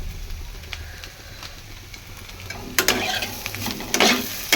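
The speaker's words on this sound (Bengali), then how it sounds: "এবার এটা ভালো করে নেড়ে চেড়ে তারপরে চাউমিন মশলাটা দেবো এর মধ্যে" Chow mein noodles stirred in a frying pan over the heat, a continuous sizzle with scraping spatula strokes that grow louder and sharper toward the end.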